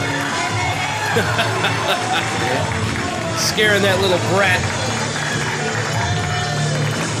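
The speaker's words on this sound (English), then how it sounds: "there's a large amount of cheers right now for first class Vladimir Joseph" Wrestling crowd at a CTWE Championship main event cheering for a wrestler, a steady roar of cheers and chatter with scattered claps and whistles, a voice talking over it throughout.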